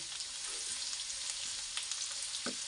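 White onion sautés in a pan with a quiet, steady sizzle and faint crackle, a few soft stirring scrapes near the end; no voices.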